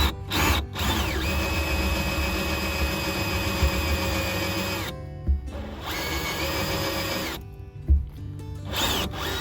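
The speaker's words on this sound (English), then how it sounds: "Careful you don't drill and hit the bed, so you only have to go through the material" A power drill bores through the plastic or rubber rail of a Retrax tonneau cover on a 2021 Ford F350 truck bed, running loud and steady in long whirring bursts broken by two short pauses and brief spikes as the bit bites.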